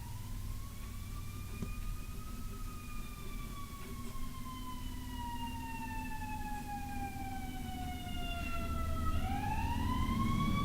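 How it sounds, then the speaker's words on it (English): Wailing emergency vehicle sirens passing through a residential neighborhood, several overlapping tones sweeping slowly up and down over a low engine rumble, moderately distant and growing slightly louder toward the end. "Apologies for the sirens,"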